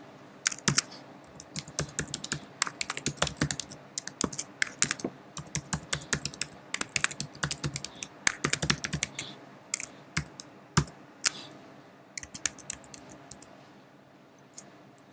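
An email address is typed on a computer keyboard in irregular bursts of crisp, close key clicks with brief pauses between them, and no one speaks.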